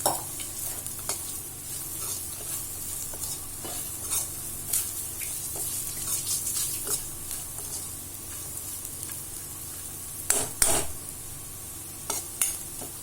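Cooked rice being stirred into fried okra in a pan for okra rice, a steady soft sizzle with scraping spoon strokes and a few sharper clinks against the metal pan near the end.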